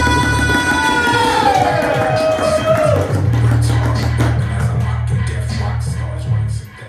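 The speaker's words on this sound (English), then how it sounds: "start clapping, start making some noise, and give it up for Crickenberger!" A comedy club audience at Spaghetti on the Beach in Washington DC cheers and claps for the next comic, with loud whoops early on and a dense wash of applause that holds steady before cutting off.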